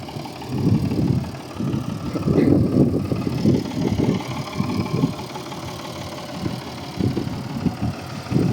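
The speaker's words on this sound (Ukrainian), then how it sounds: "Ось так трактор в розкладеному стані" An MTZ-1221 tractor engine idles nearby with a steady low, throbbing rumble that pulses unevenly and carries on throughout without anyone speaking.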